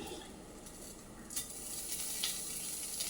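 Spices such as asafoetida and curry leaves frying in hot oil for a protein snack, a soft steady sizzle close by with a couple of brief sharper spatters or stirs, no talking.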